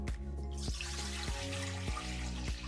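Water runs steadily from a tap into a mixer bowl while making high-hydration Detroit-style pizza dough, a continuous close splashing pour with a few brief clinks.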